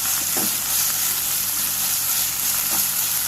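Onions sautéing in a pan for a chicken chukka, a steady close sizzle with a couple of soft stirring scrapes, alone without voices.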